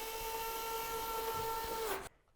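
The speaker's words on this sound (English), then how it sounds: "use your screwdriver to put the lid screws into the housing and lightly secure them" A powered screwdriver drives lid screws into a FireBot housing mounted on a drywall bracket, giving a steady, faint, high whine for about two seconds before it stops.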